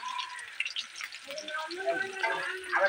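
Fish frying in oil in a pan, a soft crackling sizzle with light scraping as the pieces are turned, under a voice.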